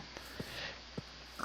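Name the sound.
pig oinking in Minecraft video game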